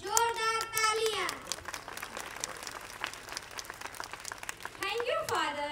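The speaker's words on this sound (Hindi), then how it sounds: "जोरदार तालियां।" Loud, dense applause fills a school annual day function, with a tonal musical phrase at the start and end and children's voices faintly mixed in the crowd.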